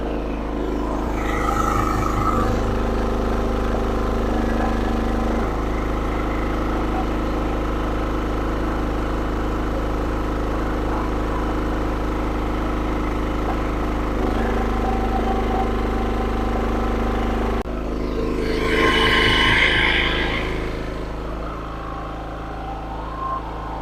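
A SIGMA petrol generator rated 2.8 kW nominal and 3 kW maximum runs steadily at its first start, a loud continuous engine drone with a brief rise in intensity near the end, with no talk over it.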